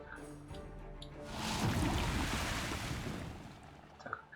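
Rushing floodwater in the Timberborn video game, a broad whooshing surge that swells in the middle and then eases off, steady and moderately loud with no voices over it.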